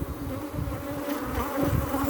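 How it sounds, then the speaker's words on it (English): Honey bees buzzing around a brood frame with a queen cell during a hive inspection, a dense continuous drone from many insects close to the microphone, steady and alone without talk. "These bees want to take off."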